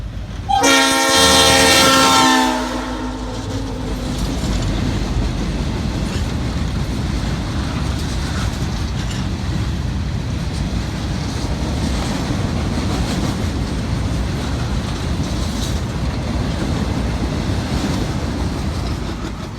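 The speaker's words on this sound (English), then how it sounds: "we shot the train from above as it speedily continued its journey towards Michigan City's Carroll" A train speeds beneath an overpass toward Michigan City's Carroll Avenue Yard, opening with a loud, sustained horn blast, then a steady, roaring rumble of cars rolling past.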